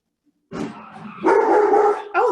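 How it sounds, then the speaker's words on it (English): Dogs bark inside a house, starting with a short yip and then breaking into loud, close, overlapping barking that runs to the end. "My dogs are gonna bark like crazy for a moment."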